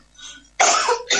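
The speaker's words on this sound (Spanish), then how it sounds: "justo tengo un poco de tos" A woman coughs twice in quick succession, close and fairly loud, after a faint breathy sound.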